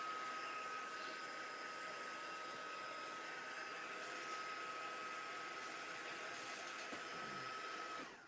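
A handheld dryer blows a steady, loud, continuous whir as it dries a mixed media scrapbook page, holding one tone throughout before cutting off at the end.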